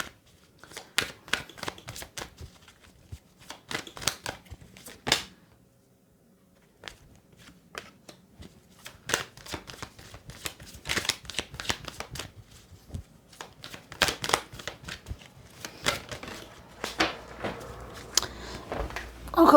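Tarot cards being shuffled and dealt, a dense run of crisp card riffles and snaps with a brief pause partway through, close and fairly loud.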